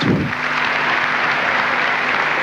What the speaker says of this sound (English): Prince Regnier applauding them